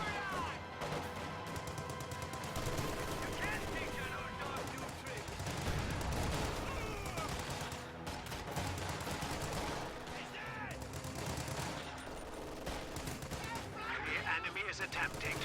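Dense rifle fire during a strategy game battle, grenadiers under rifleman fire, a continuous crackle of overlapping shots and distant explosions that lasts the whole stretch, with a commentator talking over it.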